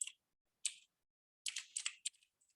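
Short bursts of keystrokes on a computer keyboard, a single tap, then a quick cluster of several clicks and a few trailing taps, close and fairly quiet against silence.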